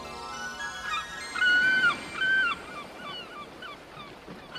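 Seagulls call out in alarm, a few sharp, sliding cries in quick succession over a low, steady background wash, fairly near and clear, with no talk.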